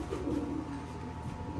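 White pigeons in a breeding loft give soft, low throaty coos, close and fairly quiet over a steady background hum.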